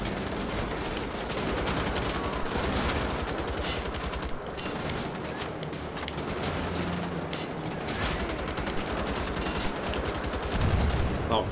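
Rapid automatic gunfire from shooting in the video game Wolfenstein: The Old Blood, dense continuous bursts of loud shots filling the whole stretch with little break.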